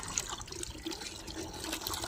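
Water pours steadily into strained peel water at a household rooftop garden, a soft continuous splashing trickle with no talk.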